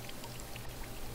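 Faint water dripping and trickling in The Midnight Man horror game, a quiet continuous wet patter with soft scattered drops, heard alone at low level.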